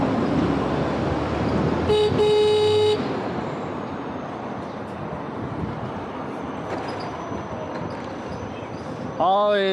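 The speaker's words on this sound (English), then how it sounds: "Always use your horn, always." Car horns honk in busy Shenzhen street traffic, one sustained horn blast followed later by a short toot, heard from a moving electric scooter over road noise and passing vehicles.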